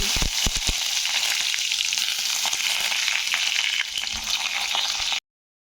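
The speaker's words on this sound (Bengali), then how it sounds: "তো বেগুনগুলোর মধ্যে সামান্য একটু আমি লবণ দিয়ে বেগুনগুলো ভেজে নেব" Eggplant pieces fry in hot oil in a pan, a steady close hissing sizzle with a few crackles and stirring knocks at the start, running without pause before cutting off abruptly.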